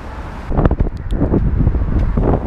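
Strong wind buffets the microphone on a metro station platform, loud gusty low rumbling that surges and pulses throughout, with no voices.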